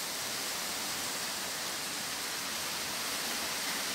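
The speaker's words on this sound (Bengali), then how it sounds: "বিশাল জোরে বৃষ্টি নেমে গেছে, তার সাথে চলছে ঝোড়ো হাওয়া।" Heavy rain with gusty stormy wind, a steady loud broadband wash that stays constant throughout with no talking.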